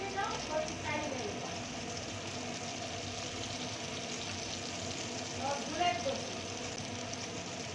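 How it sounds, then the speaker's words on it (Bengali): A prawn and snake gourd chachchari with raw oil added sizzles steadily in a pan while it is gently stirred, with a couple of brief scraping bursts over continuous frying noise. "কাঁচা তেল দিয়ে আমি হালকা হাতে নেড়ে নামিয়ে নেবো।"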